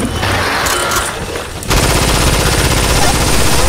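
Rapid automatic gunfire in the video game Killing Floor (2013) against zombies, with a short burst of shots, a brief pause, then a dense continuous stream of loud shots to the end.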